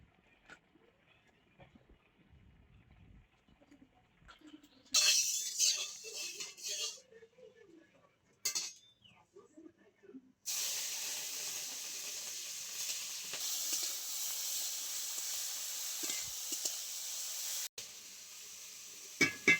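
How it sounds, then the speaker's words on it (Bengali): Shrimp fry in mustard oil in a wok, giving a bright hissing sizzle that starts in short bursts and then settles into a steady, close crackle. "চিংড়ি মাছটা প্রথমে ভেজে নেব"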